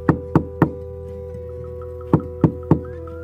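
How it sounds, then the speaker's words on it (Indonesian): Two sets of three sharp knocks on a house door from outside, loud and close, the groups separated by a pause over a faint sustained background tone. "tiba-tiba pintu rumah diketuk dari luar"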